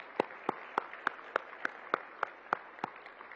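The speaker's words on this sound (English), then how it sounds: "Let's give them all a big round of applause." Scattered applause from a conference audience at a hospitality and tourism summit: a handful of evenly spaced, distinct claps over a soft crowd wash, sounding sparse and a little distant rather than a full ovation.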